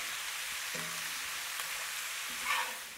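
Eight ounces of sliced common button mushrooms sizzle in a skillet, giving a steady broadband crackle with a brief louder flare near the end; no one speaks.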